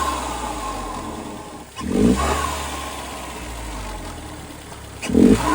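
Turbocharged 2.0T engine of a 2010 Hyundai Genesis Coupe R-Spec with a GReddy-style FV blow-off valve, idling close up with two short revs around two and five seconds, each ending in a quick whooshing release.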